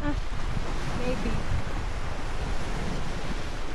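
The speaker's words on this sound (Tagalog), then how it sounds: "Malakas ang alon." Strong waves roll in on the Scottish coast at Cromarty, a loud continuous surf roar mixed with heavy wind buffeting the microphone.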